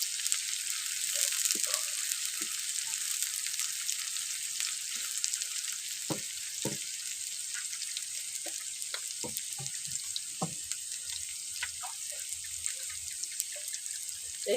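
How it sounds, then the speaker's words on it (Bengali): Chopped onions sizzle in oil in a pan with a constant crackling hiss, while scattered sharp ticks and pops from the frying and stirring come and go, close and fairly soft throughout. "আর এখানে বড় সাইজের আমি 2টো পেঁয়াজ কুচি করে নিয়েছি, আমি সেটা দিয়ে দিচ্ছি। একটু সময় নেড়ে চেড়ে ভাজবো।"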